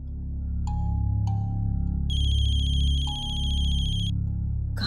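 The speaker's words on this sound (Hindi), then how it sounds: "मम्मा फोन की आवाज तो यही कहीं से आ रही है।" An electronic phone ringtone chimes nearby: short tones, then a bright, buzzing warble, over a steady low hum in the room.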